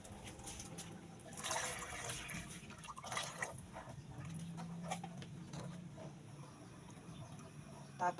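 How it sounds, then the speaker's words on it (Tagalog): Water poured into a cooking pot while preparing pork meatballs with patola, a steady close splashing pour that runs for several seconds with a few brief surges and no talking. "So, maglalagay muna ako ng water."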